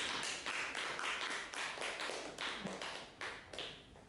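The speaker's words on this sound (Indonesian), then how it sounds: "Ya, terima kasih, kita beri aplaus." A schoolroom audience of parents and teachers claps together in a dense burst of overlapping hand claps, steady and fairly near throughout, with no voices over it.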